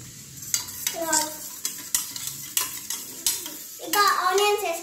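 A utensil stirs and whisks egg and onion in a metal bowl for an omelette, making rhythmic scraping clinks and taps in close, regular strokes, with a voice briefly audible near the end.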